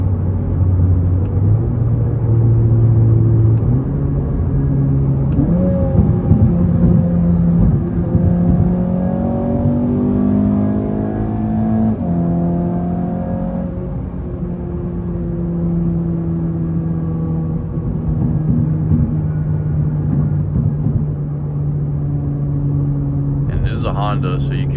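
A modified 2022 Acura ILX A-Spec engine rumbles and revs up and down through a series of downshifts, heard from inside the car as a steady loud drone with rising and falling pitch.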